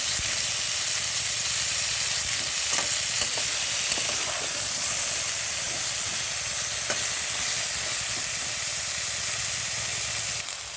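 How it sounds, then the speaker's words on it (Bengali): Vegetables and stalks fry together in a pan for shukto, a loud, continuous hiss and sizzle of hot oil with a few faint scrapes and taps of stirring, steady and close throughout. "ডাঁটাগুলোকে একসঙ্গে ভেজে নেব।"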